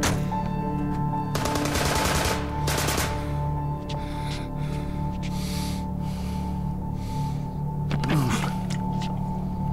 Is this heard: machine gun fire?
yes